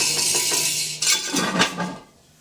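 A utensil stirs Uruguayan buseca stew in a pot, giving a few close metallic clinks and scrapes against the pot before the sound fades to quiet.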